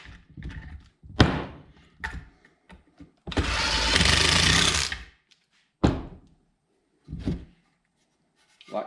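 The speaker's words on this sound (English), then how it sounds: "But you just want to screw these together." A power drill drives Kreg screws to join table leg boards, with a sustained whirring burst of about two seconds among scattered knocks and thuds of the boards being handled, close by.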